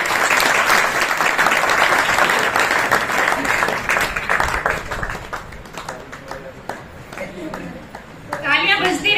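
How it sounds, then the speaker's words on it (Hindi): Loud audience applause at a certificate presentation during an RCM business event in India, a dense sustained roar of many hands that thins toward the end as scattered claps and voices emerge. "जोरदार तालियों के बीच।"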